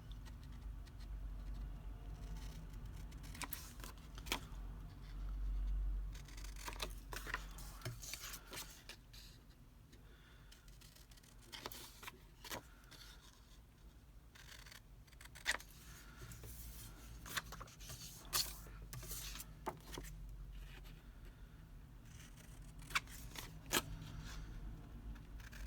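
Scissors snip the corners off a cream cardstock tag, giving a few quiet, crisp cuts scattered over a low background hum, with no talking.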